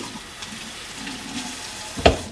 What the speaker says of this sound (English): So I'm first gonna rinse my hands off.